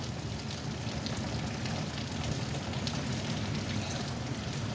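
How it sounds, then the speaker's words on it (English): Rain falling outside a dining room window onto an urban farm, a steady, even hiss of drops without pause, soft and diffuse with no voices. "Love the rain, love the sound of the rain."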